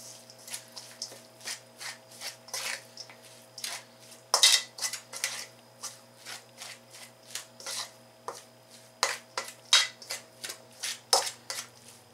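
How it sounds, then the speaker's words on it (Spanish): Tuna and cheese filling stirred in a bowl, a brisk run of repeated clinks and scrapes of a utensil against the dish, close and fairly quiet with no talk. "Vamos a revolver esto bien"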